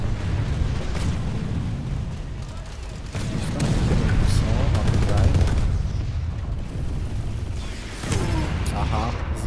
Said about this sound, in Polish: Z rakietnic, to naprawdę jest dobra broń, jeżeli chodzi o walkę przeciw piechocie.